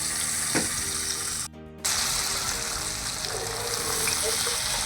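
Crisp Thai fish sizzles steadily in hot frying oil, a loud continuous crackle that drops out for a moment before resuming, with no voices over it.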